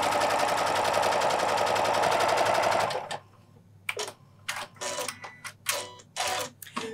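A Janome sewing machine fitted with an edge guide foot stitches a small pleat in folded fabric, a rapid steady mechanical whir for about three seconds that stops, followed by faint handling clicks and rustles.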